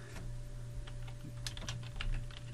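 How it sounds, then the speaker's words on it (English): Fingers type on a computer keyboard, entering a name into an HTML table: a quiet run of soft, irregular key clicks over faint background hum. "I'm going to type Jim Smith and the state"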